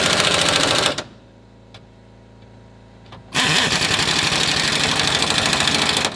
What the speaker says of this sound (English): All right, now in tightening down the bolts,